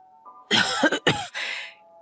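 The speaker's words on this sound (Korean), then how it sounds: "날이 추우니 기침도 더 심해지고" A few harsh, close coughs from an elderly woman with a fever, in quick succession, with a brief throaty rasp trailing after.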